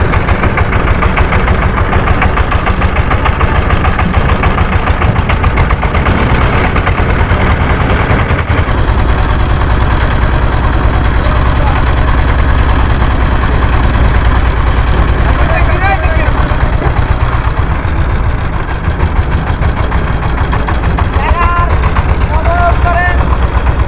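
A trawler boat's engine runs at idle with a loud, steady mechanical drone and a knocking pulse. People talk over it throughout.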